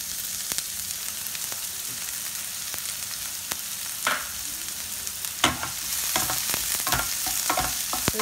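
Chopped green and red capsicum fry over a high flame with a constant close sizzle, punctuated by sharp clicks and scrapes of stirring that grow busier toward the end, with no speech.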